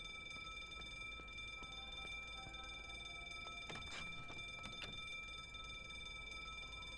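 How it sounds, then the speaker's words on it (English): Alarm going off in the indie thriller video game The Drifter, a steady ringing electronic tone held for several seconds, fairly quiet, with a couple of brief louder bursts partway through. "Maybe he won't hear the alarm going off"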